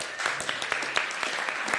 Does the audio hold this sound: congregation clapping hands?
yes